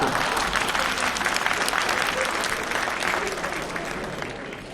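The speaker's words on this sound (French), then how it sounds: "vous devriez pas applaudir" A French audience breaks into loud, sustained applause, a dense wash of clapping that holds steady throughout and fades slightly at the end.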